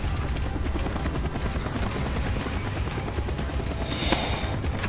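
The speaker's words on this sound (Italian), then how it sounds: "mi è passato da sopra la testa l'elicottero" A helicopter in the video game Call of Duty: Black Ops passes overhead, its dense rotor chop loud and steady throughout, with a sharp burst near the end.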